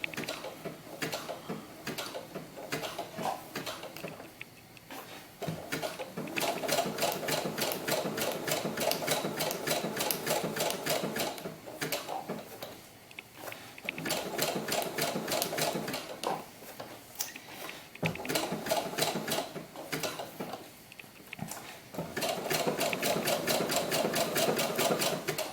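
Sewing machine stitching fabric for doll gloves, running in steady bursts of rapid mechanical chatter with short pauses between runs, close and fairly loud, no talking.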